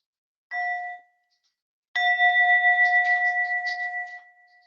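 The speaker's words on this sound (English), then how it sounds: "Okay, so I'll just invite the bell." Meditation bell rung twice at the start of a sitting practice: a brief first strike, then after a pause a fuller ring whose clear tone sustains and slowly fades with gentle pulsing, close and alone.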